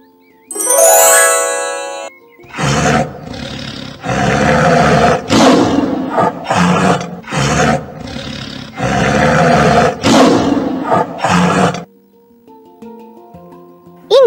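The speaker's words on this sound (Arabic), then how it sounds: "إنه صوت النمر" Tiger roaring in a series of loud, close, rough bursts with short gaps between them, preceded by a brief bright chime and followed by a soft tinkling tone.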